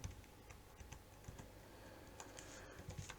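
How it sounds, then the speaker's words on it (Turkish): Quiet, steady typing on a computer keyboard while C++ switch-case code is entered, with soft, irregular key clicks running continuously through the short stretch. "3 için çarşambayı yazıyorum"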